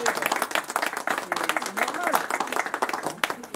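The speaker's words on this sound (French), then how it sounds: "on les applaudit de leur visite" A small crowd at a housing-rights occupation in Paris applauds visiting guests, with close, uneven hand claps in a steady patter running throughout and talk heard underneath.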